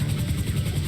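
Helicopter rotor drone in the GTA FiveM game, a steady low throbbing whir with a rhythmic beat, loud and continuous across the short moment with no talk.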